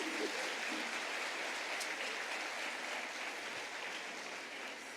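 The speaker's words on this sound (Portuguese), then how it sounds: "Uma salva de palmas para esse ministério" Audience in a church service clapping together, a dense, steady round of applause filling the space, loud and continuous with no talk over it.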